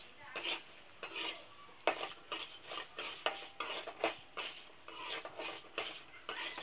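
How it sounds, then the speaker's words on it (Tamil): A spoon scrapes and clatters repeatedly in a pan while stirring a urad dal and carrot stir-fry, giving quick, irregular metallic knocks over a soft, faint background sizzle, close by and with no voices. "இப்போ இதை நல்லா கிளறி விட்டுக்கலாம்."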